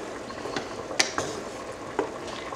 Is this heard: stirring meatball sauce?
yes